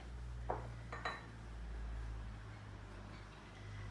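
A spoon stirring sourdough mixture in a bowl, with two or three faint clinks against the bowl early on, then a soft, quiet background hum.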